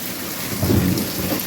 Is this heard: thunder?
yes